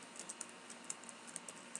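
Quick, faint clicks of typing on a computer keyboard tap along in an uneven, steady rhythm, close by and quiet, with no one speaking.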